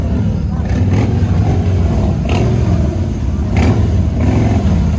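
Harley motorcycle engines rev hard at wide open throttle at Rare Breed Weekend 2021 in Los Angeles, a loud, continuous roar with rising surges, and crowd voices mixed in underneath.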